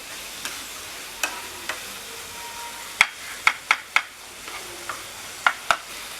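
Tomatoes sauté in a hot pan with a soft steady sizzle, broken by a series of sharp clicks and taps from stirring, several clustered in quick pairs.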